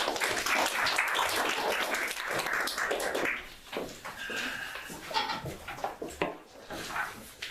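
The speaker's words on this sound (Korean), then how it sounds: "박수로 환영드리겠습니다" A room full of people at an education and admissions briefing applauds, dense clapping that gradually thins out into scattered claps.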